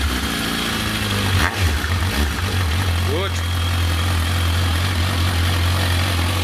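A motorcycle with ABS and a freshly painted tank, about 20,000 km on it, starts in a garage and settles into a steady, throbbing idle while someone speaks briefly nearby.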